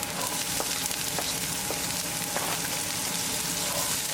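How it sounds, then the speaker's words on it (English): Green chili and onion sauté in hot olive oil in a fry pan, giving a steady, close, even sizzle throughout, with a few faint stirring scrapes. "We're going to saute onion for 2 minutes."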